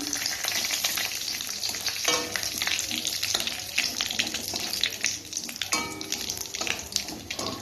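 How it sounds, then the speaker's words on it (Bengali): Black cumin (kalo jire) and two slit dried red chillies crackle and fry in hot oil for jute leaf bhaja, a loud, dense sizzle close up with repeated spoon stirs and scrapes throughout. "তেলটা গরম হয়ে গেছে এবারে দিয়ে দেবো কালো জিরে দুটো শুকনো লঙ্কা চিরে দিয়েছি"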